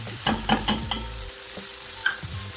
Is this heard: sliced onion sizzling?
yes